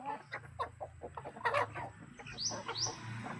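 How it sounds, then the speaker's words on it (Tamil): Native country chickens on a backyard poultry farm cluck near and loud, with rapid overlapping clucks and a couple of rising squawks near the end and no talk over them. "எல்லாமே தரமான நாட்டு கோழிங்க"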